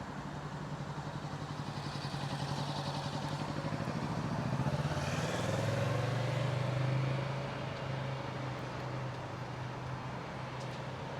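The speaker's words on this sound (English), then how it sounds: "Oh, I can hear the bike." A Kawasaki Z650 motorcycle approaches from a distance, its engine note rising and sweeping past fairly close around the middle, then fading away as it rides off.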